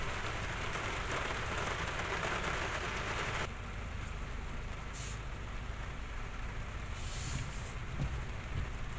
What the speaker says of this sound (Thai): ท่ามกลางสายฝน